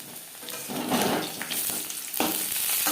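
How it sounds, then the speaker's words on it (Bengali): Potato pieces crisp up in frying oil and are turned over, giving a loud close sizzle that swells and rasps in uneven waves without any talk. "মাছ ভাজার মতো ক্রিস্পি করে ভেজে নেব"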